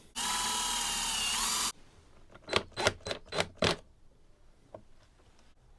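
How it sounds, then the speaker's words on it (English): A power drill whirs steadily for over a second, then stops; a run of short, sharp bursts follows as the bit bites into guitar wood in brief pulses. "that should hopefully give the drill bit something to grab into as we gently start to push in"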